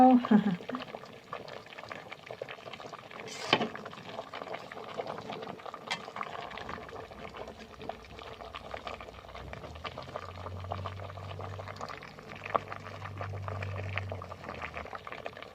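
Bamboo shoot curry with crab paste, yanang leaf juice and fermented fish simmering in a pot in a home kitchen, a soft steady bubbling that runs throughout, with a low rumbling boil rising in the second half.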